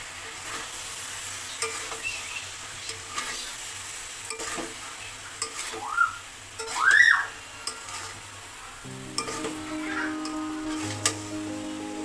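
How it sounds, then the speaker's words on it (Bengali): Mixed vegetable curry with lentil dumplings being stirred in a pan, with soft intermittent scraping and a faint sizzle, a few sharper utensil knocks, and a tonal hum entering toward the end, close and moderately quiet. "এবার নেড়ে চেড়ে মিশিয়ে দেব।"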